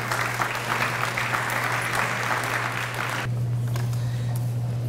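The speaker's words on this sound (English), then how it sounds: "we'll give him a round of applause" Sustained applause from an audience at a public forum on human services, loud and steady as a speaker is welcomed to the stage, with a low hum running underneath and the clapping stopping abruptly near the end.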